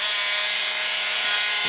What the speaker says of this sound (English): because this oscillates back and forth, it's going to cut about a 1/2 inch slot